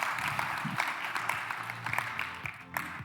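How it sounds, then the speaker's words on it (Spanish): Audience clapping for the Quadient team at a Digital Trends Summit presentation in Bogotá, a steady wash of applause from a crowd in a hall, with a few voices underneath. "un fuerte aplauso para el equipazo de Cuadient"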